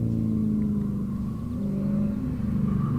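A modified, non-stock BMW running an autocross course: a loud, close, low engine rumble held steady throughout with slight swells in revs, alone with no voices.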